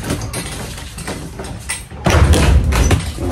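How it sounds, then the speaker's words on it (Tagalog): A house door is handled during a home inspection: a clatter and knock of it being moved, then a louder thump of it shutting near the end, heard close with no talk. "Check tayo sa ating pintuan."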